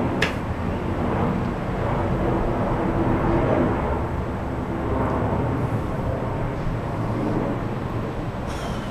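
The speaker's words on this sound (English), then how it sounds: "Shut up, you dumbass airplane." Steady broadband roar of an airplane passing overhead, continuous and fairly loud for the whole stretch, with no voices over it.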